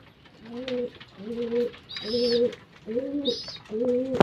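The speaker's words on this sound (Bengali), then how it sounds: "পায়রাগুলো খাচ্ছে খাক এবার ধাড়ি পায়রাগুলো দিয়ে দেবো" Pigeons coo steadily while feeding, producing five close, rhythmic low coos with a couple of brighter higher calls between them, all near and clear with no talking.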